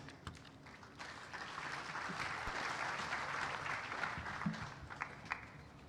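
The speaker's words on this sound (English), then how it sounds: "Another round of applause for Chairman." Audience at an international water and sanitation conference in Mombasa applauds the chairman, steady clapping swelling after a second and continuing through, with a few sharper nearby claps standing out.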